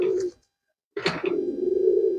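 Racing pigeons in a loft give low throaty coos, one short call, a pause, then a longer sustained cooing close to the listener.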